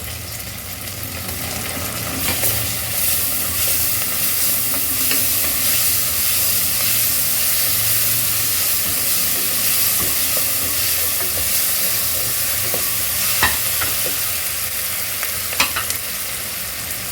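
Ginger and garlic paste frying in ghee for ghee rice, a steady close sizzle with stirring scrapes and occasional pops throughout, no voices.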